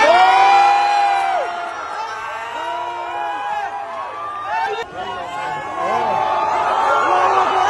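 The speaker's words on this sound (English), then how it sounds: "I bet there's a bunch of Syrian Americans that are cheering him home" A crowd at a White House welcome cheers and shouts, many overlapping voices whooping and calling out loudly and continuously, with a brief dip midway before the cheering swells again.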